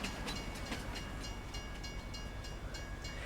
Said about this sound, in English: this is all the train will do. It just goes back and forth